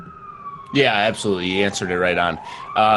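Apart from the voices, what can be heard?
sirens in the background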